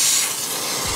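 A Chief Steamer steam cleaner hisses continuously during car interior detailing, a loud broad rushing jet of steam with a brief low knock near the end.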